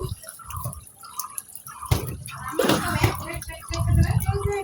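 Water splashes and drips as a child's clothes are washed by hand, with irregular sloshing bursts and trickles close by and some faint background voices.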